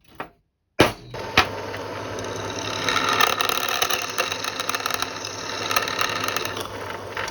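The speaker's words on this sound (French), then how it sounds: "Donc on va venir pointer et percer." A hand drill bores holes into a small bushcraft tripod part, a steady whirring grind near and fairly loud after a brief click and pause, continuing without talk.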